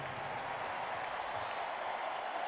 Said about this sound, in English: please give a Texas-sized round of applause to these true Longhorn legends